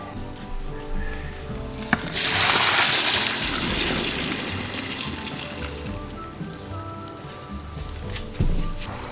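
Hot rhubarb liquid is poured into a pail, rising to a rushing, splashing flow that tapers into a steady trickle, with a couple of faint knocks during home winemaking.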